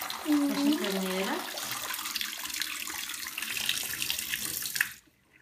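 A tap runs steadily into a sink while clothes are washed by hand, a loud continuous gush with a voice briefly over the start, then the flow cuts off abruptly near the end.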